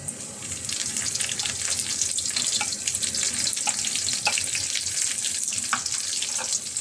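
Garlic sautés in a pan for squid adobo with a dense, continuous sizzling hiss and faint crackles throughout, close and steady, with no talking.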